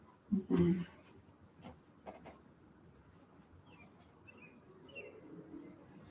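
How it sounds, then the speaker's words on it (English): Pet birds give a few faint, scattered chirps and tweets after a louder cooing burst at the start, heard over quiet room noise. "Hear my birdies."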